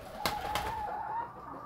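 Pigeons coo near a cage baited with corn in Fortaleza, Brazil, a soft low cooing running steadily at close range with a couple of brief sharp bursts early on, and no talk.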